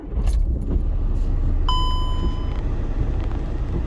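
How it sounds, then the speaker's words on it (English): Keys jingle close by, then a 2011 VW Jetta TDI wagon's diesel engine starts, idling and rumbling steadily while a brief electronic warning chime rings out partway through. "when you turn on the car"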